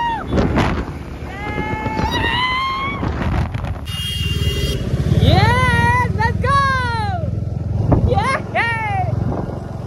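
A KTM Duke 250 motorcycle on the move, its engine pitch climbing through gears and swelling up and down in revs, with steady wind buffeting the microphone throughout.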